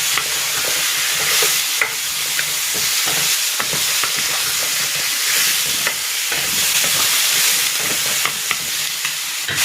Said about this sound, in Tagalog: Ilalagay ko na rin itong kalabasa.